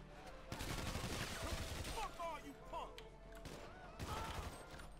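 Gunfire in GTA 5 during a zombie-apocalypse fight, likely a minigun, comes in dense rattling bursts separated by short gaps, fairly close, with some faint chirping and clattering between them.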